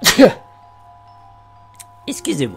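A single sharp sneeze bursts out near the start, followed by a long quiet stretch with a faint sustained tone, then a voice speaks briefly at the end.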